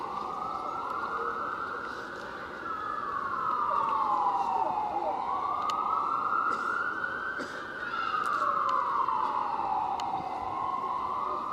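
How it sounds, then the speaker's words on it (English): Fire engine sirens wail in long rising and falling sweeps as the trucks pass a street march, loud and steady over a murmur of crowd noise. "It is my hope that those fire engines"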